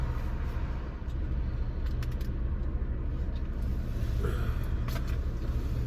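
Car interior while driving, a steady low engine and road rumble continuous throughout, with faint rattles on top and no talk.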